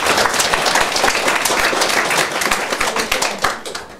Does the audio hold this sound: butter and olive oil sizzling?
no